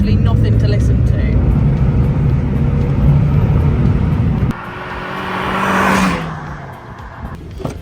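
A Mazda MX5 sports car with a quiet stock exhaust drives past, its engine a muted drone that swells briefly and fades. Speech overlaps the passing car.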